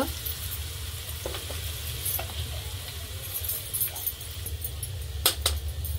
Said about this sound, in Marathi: गॅस थोडा बंद करायचा जेणेकरून आपली फोडणी जळली नाही पाहिजे